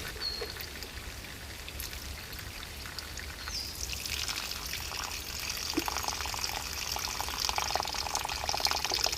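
Water pours and trickles steadily through an improvised bushcraft filter outdoors in the Australian bush, a continuous splashing flow that grows slightly louder and brighter toward the end, with no talking.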